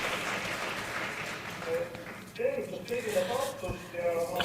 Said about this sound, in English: I will ask the audience to give you an applause